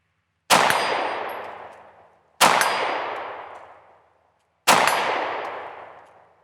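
Three loud metallic clangs about two seconds apart, each ringing out and decaying, as 9mm rounds from a Sig P365 pistol strike a steel target at 50 yards.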